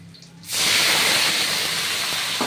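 Boiled potatoes hit hot oil spiced with five-spice, and after a quiet start a sudden loud hissing sizzle bursts up and carries on steadily to the end.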